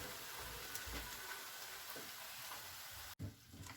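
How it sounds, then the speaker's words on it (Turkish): Tomato paste sizzles and fries steadily in a pan for a few seconds, a close, dense crackle with faint stirring scrapes, cut by a brief dropout near the end. "Önce şu ortada kavuruyorum sonra hepsine karıştıracağım."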